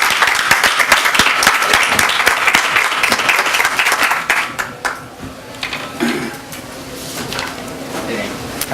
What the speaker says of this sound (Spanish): Recibamos con un fuerte aplauso a Francisco Mesonero Fernández de Córdoba